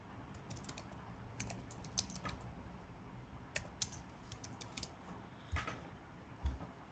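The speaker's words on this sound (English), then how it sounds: "I type something here." Typing on a computer keyboard: a steady run of light, quick key taps with irregular rhythm and occasional slightly louder strokes, heard close up over faint room noise, with no one speaking.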